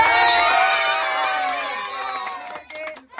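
Crowd cheering and whoops for the winner of an egg-eating contest, eight eggs in a minute, loud and dense at first, then thinning and fading with scattered voices and a few claps near the end.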